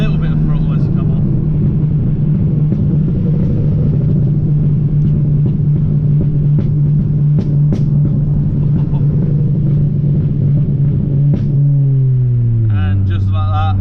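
Engine of a 330 bhp Ford Fiesta ST180 held near 4,000 rpm under a steady loud drone, then dropping in pitch as the throttle lifts off, recorded from inside the car.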